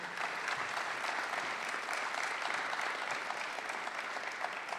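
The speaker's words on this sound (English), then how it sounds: "Again, a big round of applause for our distinguished and honored guests." A dense, even round of applause fills the hall at a medical center's 2022 resident graduation and awards ceremony, honoring distinguished guests with continuous clapping throughout.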